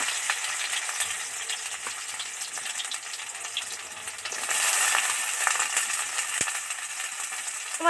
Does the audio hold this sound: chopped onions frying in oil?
yes